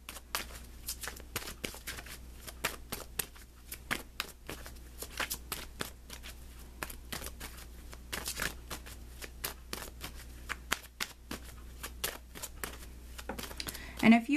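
Tarot cards are shuffled continuously in the hands for a weekly reading, giving a steady, close, rapid riffling patter of papery slaps throughout, with soft handling noises.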